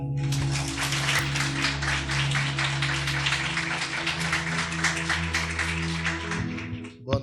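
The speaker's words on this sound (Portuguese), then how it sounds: "E as palmas louvam ao Senhor." Church congregation clapping in praise to the Lord, a steady rhythmic burst of many hands under a sustained low hum, lasting several seconds before fading out at the end.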